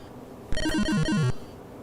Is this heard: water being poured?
no